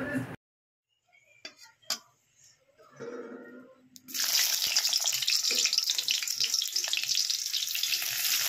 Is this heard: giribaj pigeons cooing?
no